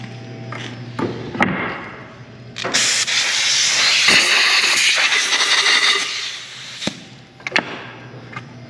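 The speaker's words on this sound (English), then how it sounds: "And blow with the air compressor." Compressed air blasts through freshly drilled holes in a wooden floating shelf, a steady loud hiss lasting several seconds amid short bursts and clatter of shop handling.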